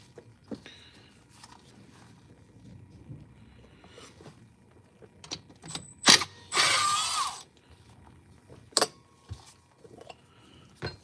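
Screws being removed from the muffler of a Red Lever 026 chainsaw, heard as quiet mechanical clicks and scrapes with a few sharp metallic clacks and a brief louder ratcheting burst near the middle.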